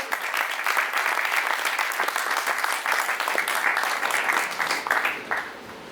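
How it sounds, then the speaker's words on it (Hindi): An audience at a national kavi sammelan and mushaira claps warmly to welcome a senior poet to the stage, a dense, even round of applause lasting several seconds before tapering off. "सर पधारिए, आपकी पुरजोर तालियां"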